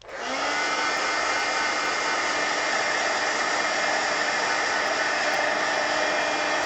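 A hair dryer blowing on watercolor marker swatch paper, switching on with a brief rising whir and then holding a loud, steady, close rushing drone to the end.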